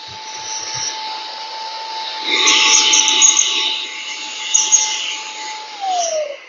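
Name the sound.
air duster blowing out vents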